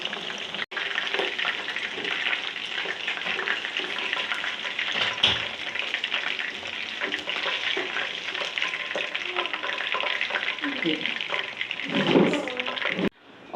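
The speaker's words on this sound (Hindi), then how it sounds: "अब ये भी अच्छी तरह फ्राई हो जाते हैं, उनको भी निकाल लूँगी मैं।" Chicken drumsticks fry in hot oil, a loud continuous close sizzle and crackle lasting throughout, with a few utensil knocks near the end and no talk.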